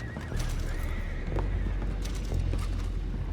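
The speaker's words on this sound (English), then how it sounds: "go find out about those horses down below" Horses in the video game Red Dead Redemption 2 neigh and whinny while hooves clip-clop close by, set against a dense, noisy outdoor background that stays steady throughout.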